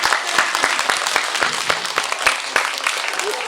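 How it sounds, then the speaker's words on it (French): Schoolchildren in a classroom clap for Gary's birthday, a lively, fairly even patter of many small hands with sharp individual claps standing out, continuing steadily without talk. "Et alors on peut applaudir Gary parce que c'est son anniversaire."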